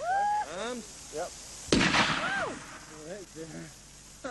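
Rocket blast during an amateur explosives test, a single sharp burst with a noisy tail midway through, set among faint whistling tones and voices talking before and after.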